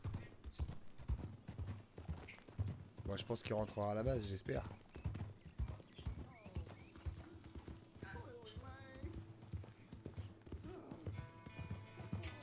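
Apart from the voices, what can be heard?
horse hooves clip-clopping from Red Dead Redemption video game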